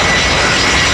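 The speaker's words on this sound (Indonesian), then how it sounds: "Pesawat terbang baling-baling sudah beraksi." A toy propeller airplane runs with a loud, steady buzzing whir that holds constant for the whole moment, close and alone with no talk.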